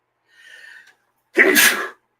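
A single sharp sneeze, close and loud, preceded by a short breathy inhale.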